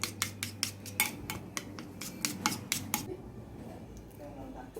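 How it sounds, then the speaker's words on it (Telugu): Eggs beaten in a bowl with a fast, even run of sharp clicks and taps from the utensil for about three seconds, then the beating stops and only quiet room sound remains. "ఇప్పుడు ఎగ్ బీట్ చేస్తున్నాము"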